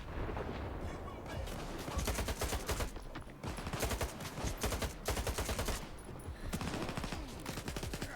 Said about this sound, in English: Who are these people and why are they shooting at me?